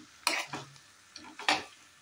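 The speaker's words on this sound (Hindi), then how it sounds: "अब इसमें मैं नूडल्स डाल देती हूँ। इसको अच्छे से मिक्स कर लेंगे।" Noodles for chowmein being tossed and stirred into prepared spices in a pan, with a few distinct scraping and clinking strokes of a utensil against the pan, close and fairly loud, spaced by brief pauses.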